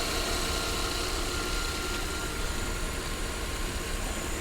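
A Volvo 3.2-liter inline-six engine in a front-wheel-drive car idles smoothly at an auction yard, a steady, even rumble with a constant hiss, close and unbroken, no talk.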